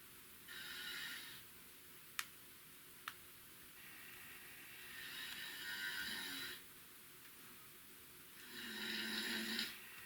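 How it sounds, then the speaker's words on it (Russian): Snoring picked up by a small voice recorder in a quiet room: three long, rasping snores rise and fall slowly, with two sharp ticks between them and faint background hiss. "Вот это вот уже пошел храп."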